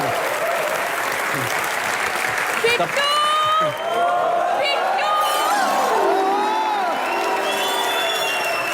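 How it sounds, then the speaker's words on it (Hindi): A studio audience on a comedy show claps and cheers loudly and continuously, with a host's voice and shouted words rising over the steady applause. "एक बार रजत जी के लिए जोरदार तालियां।"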